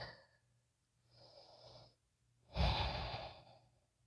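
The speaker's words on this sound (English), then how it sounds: "I'm just breathing." Heavy breathing during a yoga practice, three audible breaths: two softer, airy ones early on, then a deep, loud exhale near the end, close up with no talking.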